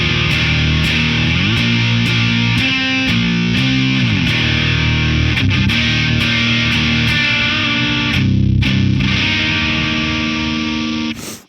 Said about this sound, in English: you have overdrive if you take the drive knob all the way at complete counterclockwise